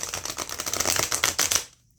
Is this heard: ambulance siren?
no